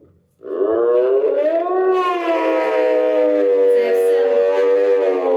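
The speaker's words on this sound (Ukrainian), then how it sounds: "Це не вовк, це лось." A long, loud, tonal moose call, a drawn-out bellow that begins abruptly and holds for about five seconds with a slight wavering rise. Nothing else is heard alongside it.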